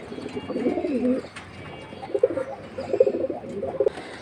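Giribaj high-flying pigeons coo close by in a few soft, throaty rolling phrases, one longer call first and then several shorter bursts, with no talk over them.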